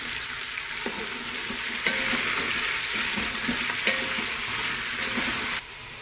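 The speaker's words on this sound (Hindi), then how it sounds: "अब हम कासी फल ऐड करेंगे इसके अंदर। बिस्मिल्लाहिर्रहमानिर्रहीम। अब इसमें हम चम्मच चला देंगे।" Pumpkin (kashiphal) cooking with spices in a pan sizzles steadily while a spoon stirs it, with repeated scraping clinks against the pan throughout and no talk.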